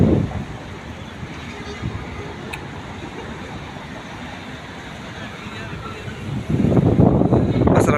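Outdoor wind in Dubai buffeting a microphone, a steady rushing roar with louder gusts at the start and toward the end.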